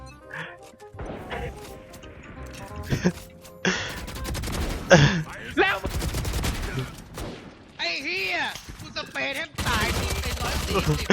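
Rapid bursts of gunfire from the video game Valorant crackle through a busy match, with shots and other game effects following each other at a fast, uneven pace. A player's voice is heard between the shots.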